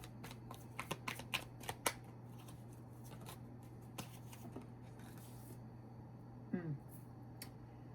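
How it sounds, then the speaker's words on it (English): A deck of tarot cards being shuffled, a run of crisp riffling flicks early on, then softer card handling and a brief rustle near the end, with a faint voice speaking underneath. "We're going to reshuffle here and get last card."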